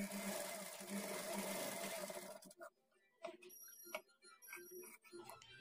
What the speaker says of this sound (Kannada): ಸ್ಟಿಚ್ ಮಾಡ್ಕೊಳ್ಳುವಾಗ ಸ್ಟಾರ್ಟಿಂಗು ಎಂಡಲ್ಲಿ ರಫ್ ಹೊಡೆದು ಸ್ಟಿಚ್ ಮಾಡ್ಕೊಳ್ಬೇಕು.